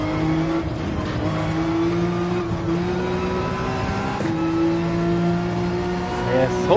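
A Porsche 911 in Gran Turismo 7 revs hard through fifth gear, a loud sustained engine note climbing toward the top of the rev range, with faint tire noise and a brief voice over the continuous drone.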